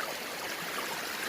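Water drains steadily out of a gold prospecting sluice box beside a stream, a constant close rushing hiss with no distinct splashes or voices.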